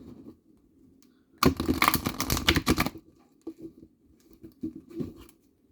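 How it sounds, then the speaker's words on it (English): A deck of tarot and oracle cards is riffled in one quick burst of rapid fluttering slaps, followed by softer tapping and handling of the cards. "So we're going to go ahead and shuffle these cards."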